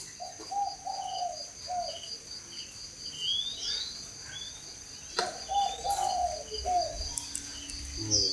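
Young spotted doves coo and chirp in repeated soft, rising calls against a constant high insect-like hum, with faint scattered bird notes between the clearer calling bursts.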